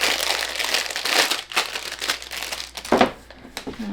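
A small crinkly cellophane bag, used for packaging a bath bomb, is handled close up, giving repeated bursts of crackling and rustling with short pauses between.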